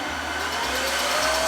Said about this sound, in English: So I'm gonna go ahead and vacuum and mop my house really quickly